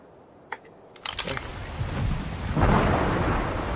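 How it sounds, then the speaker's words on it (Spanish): A thunderstorm with rain in the video game ARK: a few sharp cracks, then thunder that rolls in and swells into a steady loud rumble over the hiss of rain. "Vaya, se va a llover."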